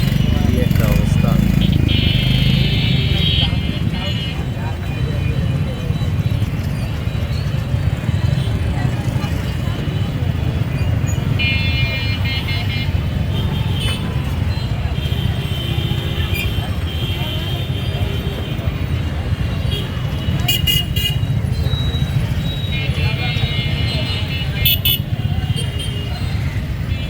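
Heavy evening traffic jams the centre of Jhenaidah town, with a constant loud din of cars and motorcycles and occasional horn toots, while someone talks over it.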